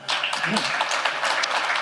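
An audience at a philanthropy talk claps briefly, a short patter of applause with a voice murmuring underneath.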